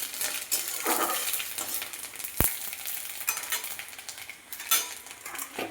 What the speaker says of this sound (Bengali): এখন আমি 5 ফোড়নটা দিয়ে দিলাম, জিরে, কালো জিরে আর 5 ফোড়ন।